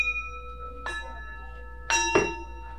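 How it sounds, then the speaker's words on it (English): Two separate bell chimes from a plantation bell in Mississippi, one near 0.9 s and a stronger one near 1.9 s, each ringing out with a sustained metallic tone over a quiet background. "Now they probably used a different chime for different things."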